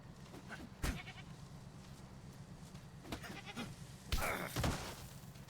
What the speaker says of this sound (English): Let's get some goat.